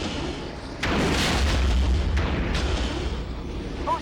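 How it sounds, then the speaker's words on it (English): Bombs from an aircraft explode on AT-PT walkers in Star Wars Rogue Squadron II, a loud boom landing after a short lead-in, followed by a sustained rumbling roar with further thuds on top. "I'm bombing AT-PTs."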